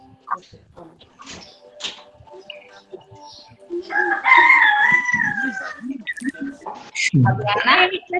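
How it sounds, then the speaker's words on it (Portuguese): A rooster crows nearby in one long rising-and-falling call from a neighbour's yard, loud against the room, with people talking before and after it. "tem um galo aí, que maravilha"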